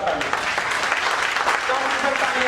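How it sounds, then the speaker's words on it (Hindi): An indoor audience applauds loudly and continuously, a dense wash of many hands clapping at once with no pauses, sustained throughout. "सब जोरदार ताली"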